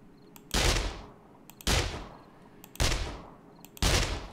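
Four loud gunshots ring out at a steady pace, each a sharp crack trailing into a short reverberant decay, fired during horde combat in the survival game 7 Days to Die.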